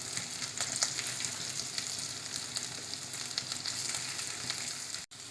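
Mashed potatoes sizzle steadily in a pan on a gas stove for an instant dosa batter, a dense continuous frying hiss with faint stirring scrapes and a brief dip near the end.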